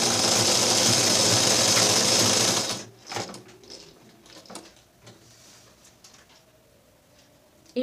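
A sewing machine stitching a lungi runs in a loud, fast whirring drone for nearly three seconds, then stops, leaving soft fabric handling and faint mechanical clicks.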